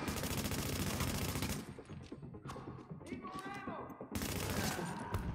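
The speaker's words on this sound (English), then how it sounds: "And he's gonna shoot me with a shotgun from down there" Dense, rapid gunfire from the game The Division in a high-value-target mission, loud bursts that fill the start and end with a lull between, while a player talks over it.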